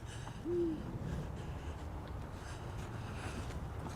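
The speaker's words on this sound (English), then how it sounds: "So hopefully you guys can hear it. But it's hooting." A single soft owl hoot sounds early on, faint against a steady rush of wind and distant low rumble.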